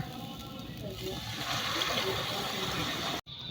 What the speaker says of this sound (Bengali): এখন আমি দুধ দিয়ে দেব।